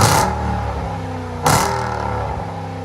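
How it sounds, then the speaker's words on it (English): A car engine revs twice in close succession, each throttle blip rising sharply and then falling back through a rumbling exhaust note, loud and near. "Nothing like beautiful exhaust tone in the middle of the evening."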